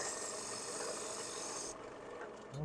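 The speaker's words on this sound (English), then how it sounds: "That's neat sanding." Sandpaper rasps steadily against the spinning edge of turned wood while chamfering it on a lathe, a continuous close scratchy hiss over the lathe's hum that cuts off near the end, leaving a quieter hum with a brief bump.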